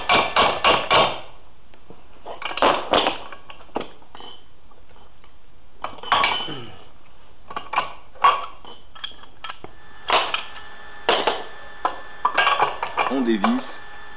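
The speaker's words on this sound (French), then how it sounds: "Vous pouvez un peu taper dessus," Metal hammer taps knocking out the last axle pin of a 250 WRF enduro motorcycle's shock linkage during bearing service, sharp clanking strikes in several short bursts with pauses, close and fairly loud.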